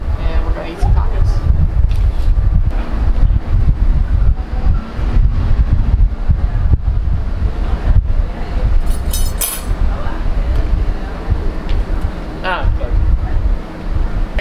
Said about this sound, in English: There's a little wind blowing